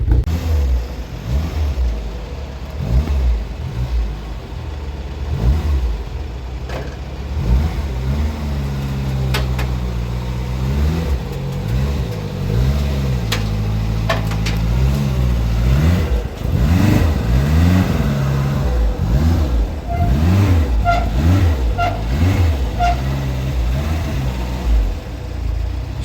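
A 1980s Renault 5 GT Turbo, recently repaired with clutch and head gasket work, idles and revs repeatedly up and down, a loud, close engine with rising and falling rev sweeps and no talk.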